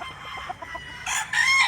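Chickens and roosters on a farm, a few short clucks followed by loud, close crowing bursts near the end.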